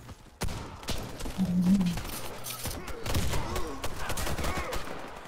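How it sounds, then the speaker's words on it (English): Video game gunfire in a Chernobyl-themed shooter, a dense run of sharp shots and bursts over about five seconds, fairly loud and continuous with no talk over it. "He's shooting at me."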